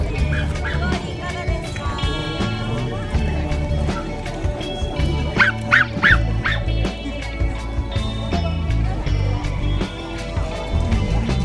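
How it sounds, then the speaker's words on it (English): Several dogs bark and yip at an outdoor event in Japan, some dressed in hats and clothes, the sharp barks rising over a busy crowd hubbub with steady talk and background music throughout. "There were a lot of dogs there and they were all so cute."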